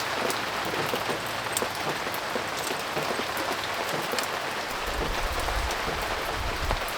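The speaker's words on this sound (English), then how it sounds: "I'm sorry for the rain noise, there's not much I can do about it." Steady rain falls on a surface while a turbo kit is fitted to an EK Civic, a dense even hiss with scattered drop ticks, joined late by a low rumble.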